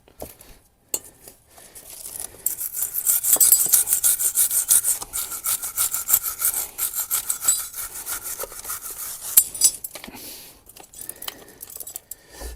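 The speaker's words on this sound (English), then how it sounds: "what I'm going to do is wire brush in these shims" Vigorous wire brushing of rust from rear brake caliper carrier shims on a VW Crafter or Mercedes Sprinter van: a rapid, rhythmic, gritty metallic scrubbing heard close up for about ten seconds, with no talking.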